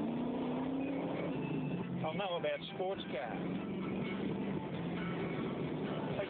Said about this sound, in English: the cockpit of a Bushranger is a noisy place, but it's good quality noise. Lots of wind rush and roar and the bark of that big leaky V8